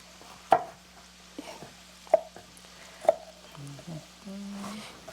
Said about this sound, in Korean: 요거 그냥 썰어만 주시면 되겠어요.